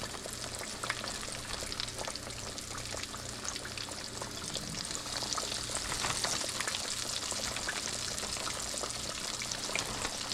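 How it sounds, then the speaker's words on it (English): Roe shad fish frying in hot grease, a steady, dense crackling sizzle that runs unbroken and fairly loud from start to finish with no voices. "drop the rest of these fish in there"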